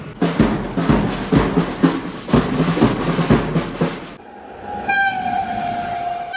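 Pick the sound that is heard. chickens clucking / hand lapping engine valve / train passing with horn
train passing with horn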